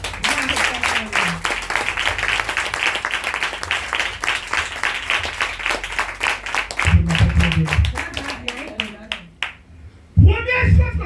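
Congregation in a French-speaking church service clapping and cheering in sustained applause, dense rhythmic hand claps near and loud, with voices shouting and a speaker calling out over the crowd toward the end.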